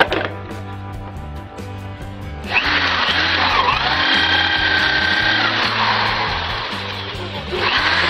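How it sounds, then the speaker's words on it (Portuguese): A power drill bores holes into the wood base of a bicycle-hub chuck project, a steady loud whir under a low repeating hum. "Esse fundo aqui eu estarei fazendo a furação."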